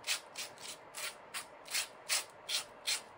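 Sandpaper is rubbed in short, regular strokes across the feet of a cast concrete bonsai pot, about nine brisk scratchy passes, close and fairly quiet.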